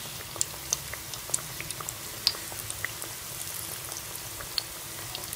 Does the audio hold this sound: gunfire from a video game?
no